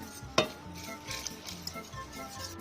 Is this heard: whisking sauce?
yes